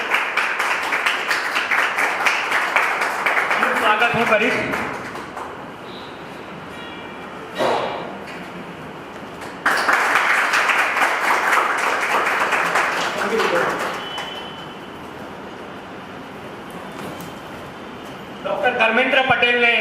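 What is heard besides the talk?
audience applause at literary event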